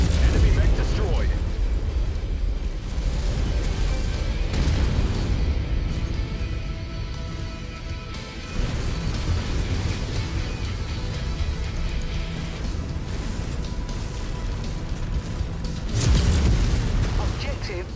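Enemy mechs explode in Mechwarrior 5 with heavy booming blasts amid continuous battle noise, and strong bursts come near the start and again toward the end while a cockpit voice announces the kills.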